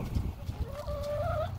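A chicken gives a short rising cluck-like call over soft rustling and low background noise in a chicken coop, close and brief.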